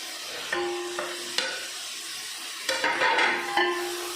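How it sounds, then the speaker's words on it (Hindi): Boiled potatoes and peas are stirred in a frying pot for Sindhi chicken vegetable biryani, giving a soft sizzle with several scraping stirs and a clink or two of spoon on metal, with a faint hum in the background. "अब हम इसमें डालेंगे मटर और ये आलू।"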